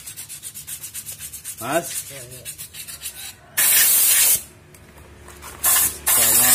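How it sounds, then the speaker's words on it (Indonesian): Sandpaper rubs the brake drum of a Yamaha Aerox 155 scooter to clean off dirt, making rhythmic rasping strokes followed by louder, longer hissing scrubs, with a brief spoken word. "diamplas dulu, itu ada kotorannya itu"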